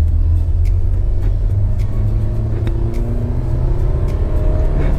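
A Hyundai Sonata Sport Tech's engine drones with a low, steady rumble under acceleration, heard from inside the cabin with faint ticks and road noise, continuous and fairly loud throughout.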